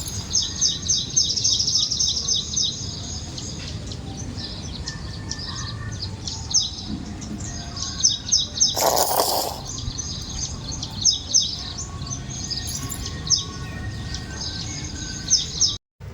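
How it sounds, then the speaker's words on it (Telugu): Birds and parrots chirp and call continuously in the morning, with bright repeated tweets and occasional louder, sharper squawks rising over a steady background of birdsong. "పక్షుల కిలకిలలు అయితే చాలా బాగా మైండ్కి మంచి ప్లెజెంట్గా అనిపిస్తుంది"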